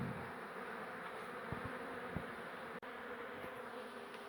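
Honeybees buzz steadily during removal of a hive from a bathroom, a dense continuous drone close by with a few faint knocks and handling sounds and no talking.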